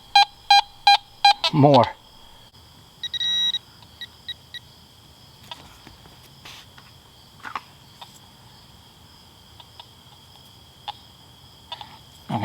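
A Teknetics metal detector sounds over a copper coin, giving a quick run of sharp rhythmic beeps at the start, then fainter scattered tones and clicks over a quiet outdoor background with a brief spoken word.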